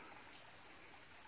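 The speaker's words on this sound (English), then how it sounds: "This garden runs along the one bank that butts up against the brook." A brook flows along the bank beside a long country garden: a faint, steady rush of running water with no voices.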